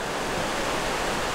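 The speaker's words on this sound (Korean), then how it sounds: "파도가 모래에 부딪히는 소리가 심리를 간다는 해수욕장" Waves breaking on a sandy island beach at a sea bathing resort, heard as a steady, dense wash of surf noise with no pauses or voices.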